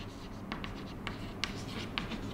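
Pen scratching on paper while a math problem is worked out by hand, a few faint short strokes close by over a low steady background hum.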